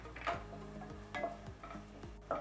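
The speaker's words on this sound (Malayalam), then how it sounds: "ഇനി ഇളക്കി കൊടുക്കുക." Chopped onions and green chilies sautéing in a pan, stirred with a few slow, distinct scrapes and light taps against the metal over a quiet background.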